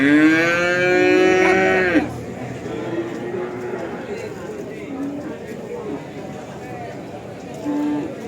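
A cow lets out a long, loud moo close by at a cattle market, followed by quieter lowing from other cattle and a brief moo near the end.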